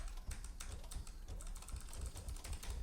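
Rapid clicking keystrokes on a computer keyboard while binding a key for Elite Dangerous, close and clear, a brisk irregular patter of taps with no talking.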